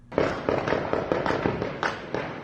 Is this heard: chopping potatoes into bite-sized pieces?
no